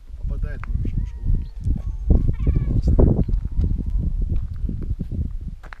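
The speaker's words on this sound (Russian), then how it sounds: "Они под домом бегают, кошки." Cats running under a house let out a close, loud series of drawn-out meows and wails that rise and fall, with people talking quietly underneath.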